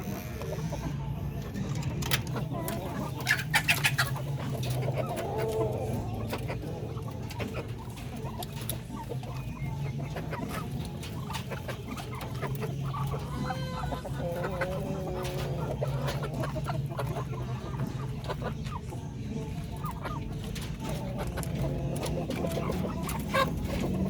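Darag chickens in a coop cluck and murmur continuously at moderate volume, with scattered rustling, clicks and faint background voices throughout.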